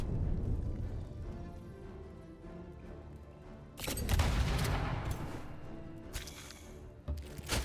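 Gunfire from a fantasy strategy battle in Age of Wonders 4 as a unit shoots an enemy in the back: a steady rumbling din, then a loud burst of dense crackling shots partway through, with further sharp bursts near the end.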